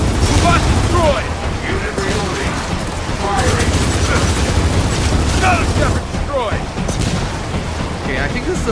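Continuous gunfire and explosions from the video game Gears of War 4 form a loud, dense barrage, with a player's voice talking over the din.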